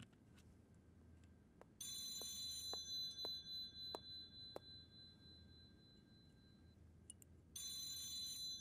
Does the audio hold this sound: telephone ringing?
yes